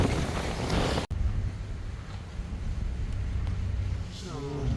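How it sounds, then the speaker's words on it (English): Strong hurricane-force wind from Hurricane Milton in West Palm Beach roars steadily and loudly across the microphone, with a brief dropout near the start and no talk. "This kind of wind is at least 150 miles an hour."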